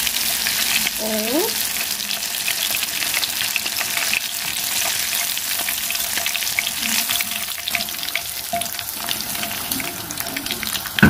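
Ling fish fillets frying in hot oil in a wok give a steady, loud crackling sizzle throughout, with a brief utensil scrape early on and no talking.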